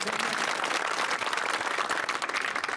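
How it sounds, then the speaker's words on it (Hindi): Crowd applauding at an open-air political election rally in Barkheda Haat, Guna, a dense, steady wash of clapping that fills the whole stretch at even loudness with no talk on top. "मिष्टी के लिए ताली बजाओ।"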